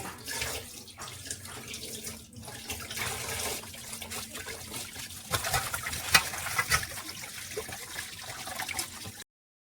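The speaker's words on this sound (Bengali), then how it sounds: "জল দিয়ে ধুয়ে নেব।" Tilapia fish being rinsed under a running tap in a sink, with steady splashing and trickling water throughout and no one talking.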